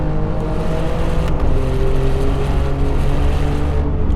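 An Alfa Romeo Giulia Quadrifoglio engine at speed on a race track, a loud sustained high-rev roar with strong harmonic tones, heard steadily at close range throughout without talk.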